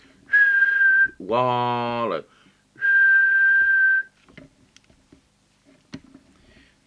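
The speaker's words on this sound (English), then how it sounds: "I'll just give it the whistle test." Someone whistles into a Realistic TRC1007 hand-portable 40-channel UK CB radio, producing three loud steady whistle bursts, one sweeping, followed by quiet clicks and a brief spoken word.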